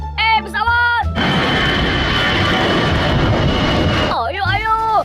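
An airplane roars past in a loud, broadband engine rush lasting several seconds, framed by speech-like voiced sounds at the start and end.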